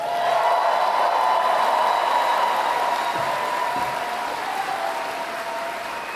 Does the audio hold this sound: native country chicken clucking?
no